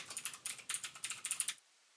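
Brisk typing on a computer keyboard, a steady run of about a dozen sharp, close key clicks that stops abruptly into near silence.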